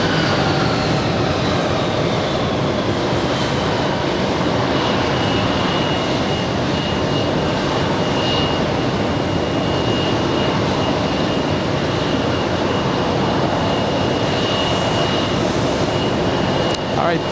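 An airliner takes off from a runway at JFK airport, its jet engines making a loud, sustained broadband roar that holds steady for the whole stretch, with no clear speech over it.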